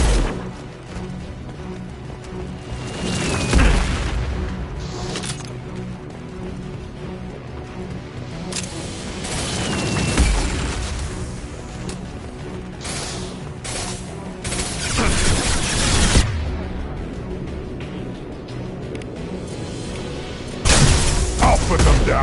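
Grenade explosions and gunfire in a Mass Effect 2 firefight, several heavy booms and crashes spread through the scene with shouted combat voices between them.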